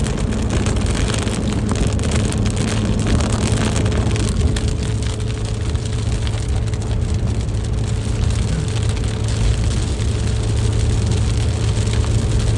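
Rain falls steadily on a car in Abu Dhabi, a dense, even patter on the roof and glass with a low cabin hum beneath, loud and unbroken.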